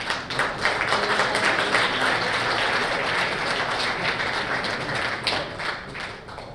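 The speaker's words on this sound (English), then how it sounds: "let's give another big round of applause" Audience applause at a keynote event, a dense, steady wash of many hands clapping that holds at full level throughout, with no speech over it.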